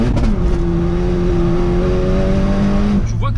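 Polo WRC rally car with a 400-horsepower engine and manual gearbox revving hard up the range, loud and close inside the cabin, then a sharp drop in pitch as a gear is shifted near the end.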